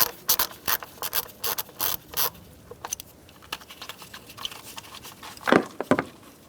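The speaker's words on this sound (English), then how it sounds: "You're going to use a 10mm socket. Undo this bolt." A ratchet with a 10mm socket loosening a bolt on a 2010–2013 Kia Soul 2.0L four-cylinder engine, a series of close, sharp clicking bursts in an uneven rhythm, followed by a louder rattle near the end.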